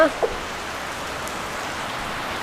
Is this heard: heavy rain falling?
yes